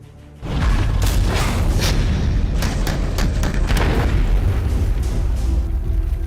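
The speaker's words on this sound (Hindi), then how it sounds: "भारतीय सेना ने अब अपग्रेडेड तोप सारंग का सफल परीक्षण कर लिया" An upgraded Sarang artillery gun of the Indian Army fires during a test, one sudden heavy boom followed by a long, loud rolling rumble that fills the rest of the moment, with no speech.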